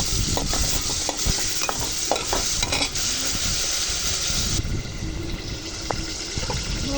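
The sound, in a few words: meat being stir-fried in a pot for khichuri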